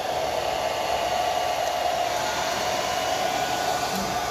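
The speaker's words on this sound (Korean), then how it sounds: "드라이기 말리고" A hair dryer blows steadily and loudly while drying a cherry blossom watercolor painting, a constant whooshing hum with no talk.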